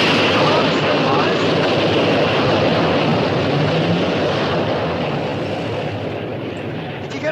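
An airplane drones steadily overhead, a loud broadband engine roar that fills the scene and slowly fades toward the end, with no talk over it.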